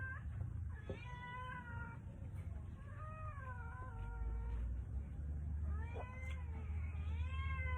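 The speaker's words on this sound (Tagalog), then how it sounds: "miyaw ka ng miyaw" A cat meows repeatedly in a close series of wavering cries, some drawn out into caterwauls, over steady low background rumble while food is being served.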